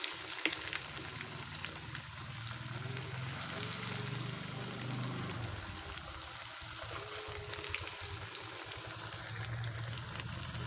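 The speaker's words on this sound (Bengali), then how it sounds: "তো রোলগুলো এখন ভেজে নেব। তো তেলের মধ্যে আমি দিয়ে দিচ্ছি।" Chicken rolls deep frying in hot oil over medium heat give a steady, close, continuous sizzle and bubbling that carries on without pause and with no talking.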